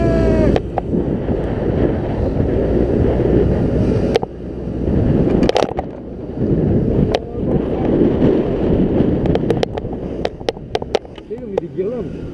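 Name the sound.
riding a scooter with wind noise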